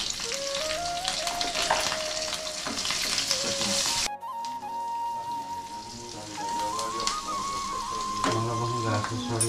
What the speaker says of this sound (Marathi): ओली मिरची घेतलेली आहे आणि कढीपत्ता ते सुद्धा ह्याच्यात घालते आणि हिंग थोडं घालते